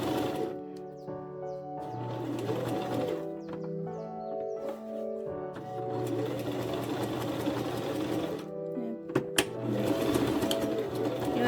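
A sewing machine stitches fabric for a Bible cover, running in steady bursts with brief pauses between runs, close and moderately loud.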